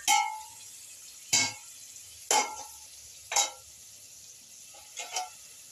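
Chicken soup poured into fried curry masala in a pan on the stove, giving about five short, loud sizzling bursts spaced a second or so apart, with quiet crackling between them.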